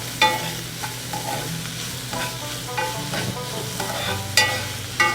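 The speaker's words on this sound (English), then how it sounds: "Just going to give it another stir." Ham and egg sizzle in a hot wok while a utensil stirs them, a continuous fry with a low hum beneath and a few sharp scrapes and clacks spread through.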